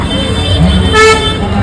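A car horn sounds a short toot amid roadway traffic noise, loud and close, with a voice speaking over it.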